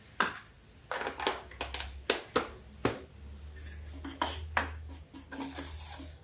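A spoon stirs a batter of water chestnut flour and rice flour in a bowl, with close, irregular clinks and scrapes against the sides and a low swishing between strikes.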